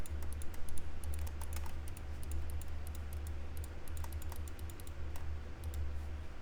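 A computer mouse clicks in image editing software: light, irregular clicks come in quick clusters, close and fairly quiet, over a steady low electrical hum.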